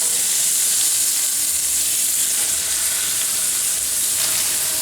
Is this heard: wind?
no